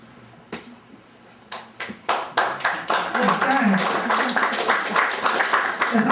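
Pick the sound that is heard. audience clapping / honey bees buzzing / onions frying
audience clapping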